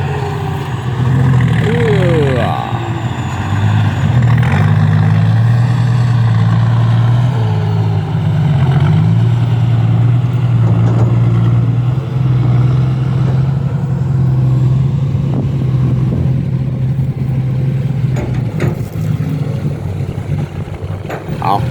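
A Kobelco SK200 Super X excavator with a 165-horsepower engine runs with a steady low diesel rumble and occasional revving, close and loud, while someone talks over it.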